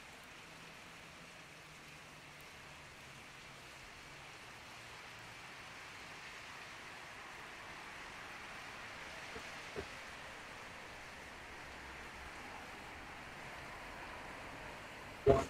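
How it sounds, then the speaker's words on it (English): Steady rain falls throughout at low level, a soft even hiss of drops on a surface with no clear pauses, plus a couple of faint brief knocks near the end. "Rain is making you fall asleep?"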